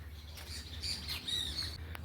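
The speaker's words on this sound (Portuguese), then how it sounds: "aqui nós vamos ouvir muito o som dos pássaros e da natureza" Small birds chirp and trill in bright, high bursts near calm coastal water, several quick phrases over a soft low background rumble.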